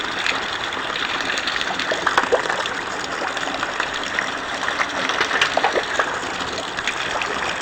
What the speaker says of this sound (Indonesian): Katanya hujannya tambah deras ya.